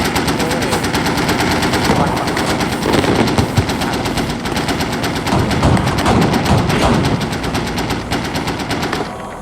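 Steady, loud automatic cannon and machine-gun fire from a Bradley M2A3 vehicle in the Squad military game, rhythmic shots hammering continuously throughout with a little speech underneath.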